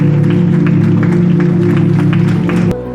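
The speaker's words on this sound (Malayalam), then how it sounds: "ശക്തമായ രാഷ്ട്രീയ നാടകാവിഷ്കാരത്തിന് കയ്യടികളോടെ അവസാനം" An audience claps at the end of a Malayalam political stage play, Accidental Death of an Anarchist. The applause is loud and continuous over sustained musical tones, then cuts off abruptly near the end.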